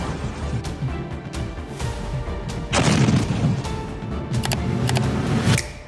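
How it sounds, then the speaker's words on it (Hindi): Rockets and missiles strike in a military attack, with low rumbling explosions and booms building to a heavy, sustained blast about midway and further sharp bursts toward the end, loud and close. "रॉकेटों की गड़गड़ाहट, आसमान चीरती क्रूज मिसाइलें"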